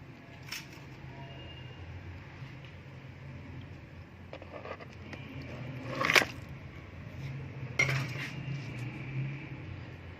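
Chicken pieces being added to a yogurt and ginger-garlic spice paste and mixed in a bowl, with soft squishing and a couple of sharp clinks of a spoon against the bowl around the middle of the stretch, no voices.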